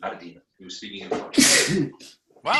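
A single loud sneeze bursts out in the middle of ongoing conversation, with people talking just before and after it.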